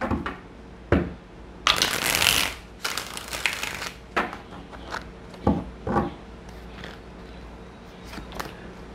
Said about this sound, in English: Get one more shuffle.